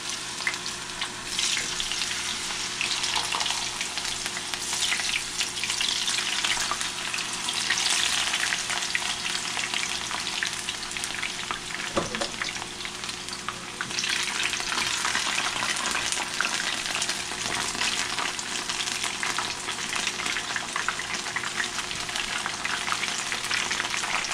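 Yuca chips fry in a pan of hot oil, giving a loud, steady sizzle with dense crackling that runs nearly the whole time and dips briefly at the midpoint. No one speaks.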